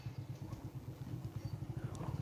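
A motorbike fitted with an aftermarket exhaust idles and putters nearby in a narrow lane, a steady low rhythmic thumping throb that holds evenly throughout.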